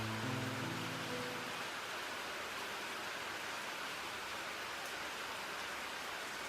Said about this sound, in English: The onslaught of raindrops pounded down on us like tiny hammers